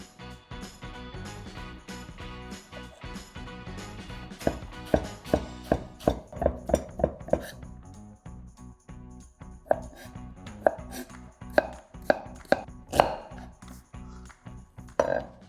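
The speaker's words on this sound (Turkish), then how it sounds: "Şimdi domatesleri ince ince doğruyoruz." A knife thinly slices tomatoes on a cutting board, a run of quick, crisp taps with short pauses between bursts, close and fairly quiet.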